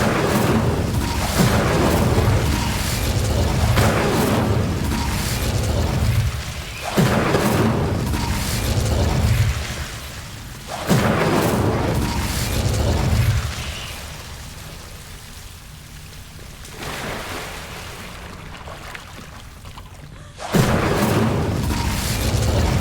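Incendio fire spell blasts from the Hogwarts Legacy video game, heavy booming bursts that recur several times over a continuous rumbling, rain-like roar, with a brief lull before a final loud blast.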